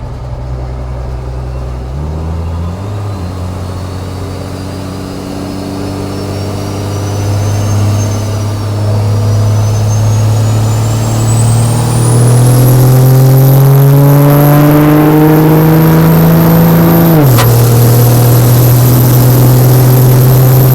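Turbo on a Cummins-swapped 1963 Chevy C60 truck whines upward over a loud, steady diesel drone, climbing in pitch, then briefly dropping near the end before settling into a high, sustained whistle.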